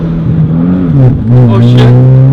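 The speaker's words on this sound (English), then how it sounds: "We'll see if we can do like a first gear roll." A 2013 Genesis Coupe 2.0T pulls away in first gear, its engine note rising and dipping as it revs, loud and close from inside the car with voices talking over it.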